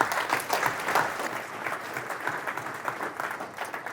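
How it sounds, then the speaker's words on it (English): A live audience at a business talk breaks into steady, dense applause, many hands clapping together at moderate volume for several seconds, with a faint voice or two under it. "So give yourselves a round of applause for being here."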